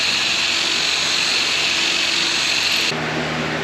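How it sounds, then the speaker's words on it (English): A power drill with a large bit bores into metal during interior demolition of a school bus, giving a loud, steady high-pitched grinding whine that holds for about three seconds, then drops to a lower tone as it eases off. "Bigger drill bit, a little easier than the 1/4 inch, but still pretty rough."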